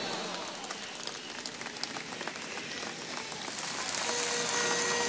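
A crowd at a Venezuelan political broadcast applauds in praise of the country's armed forces, a dense, steady patter of clapping that swells louder toward the end.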